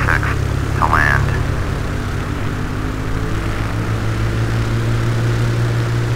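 Small single-engine airplane, a Mooney, descending toward final approach, its steady propeller engine drone loud and continuous from inside the cabin, with a brief radio voice chirp early on.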